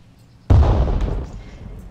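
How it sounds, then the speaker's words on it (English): A single heavy explosion in the military shooter game Arma 3 bursts suddenly with a loud, deep boom, then rumbles and fades over about a second. "I'm busy hiding from the explosions."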